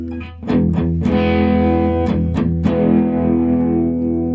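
Electric guitar chords through a GOKKO American Crunch Drive pedal with crunchy overdrive, several strummed hits ringing out and sustaining, full and loud.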